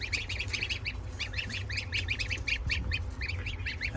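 Goslings give a steady run of high, close peeping calls with a few soft honks, repeating in quick bursts over low background rumble.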